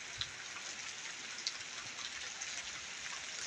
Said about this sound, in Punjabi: ਔਰ ਮੀਂਹ ਪੈ ਰਿਹਾ ਮੈਂ ਇਸ ਟਾਈਮ ਘਰ ਦੀ ਛੱਤ ਤੇ ਖੜਾ ਹੋਇਆ